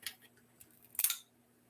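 Scissors snip the necks off Christmas ornaments during a deco mesh bubble wreath craft: a few quiet clicks, then one louder crisp cut near the end, alone in a hushed room.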